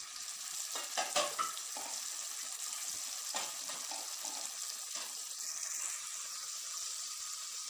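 Onions, spices, green chili and tomato fry in a pan, a steady close sizzle with occasional stirring scrapes and clinks over the hiss.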